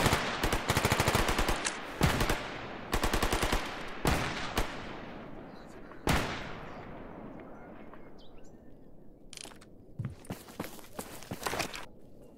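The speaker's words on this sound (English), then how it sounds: "they don't seem to be firing towards me" Bursts of automatic gunfire crack through a S.T.A.L.K.E.R. firefight, rapid rattling volleys at first, then scattered single shots and short bursts that fade into more distant popping.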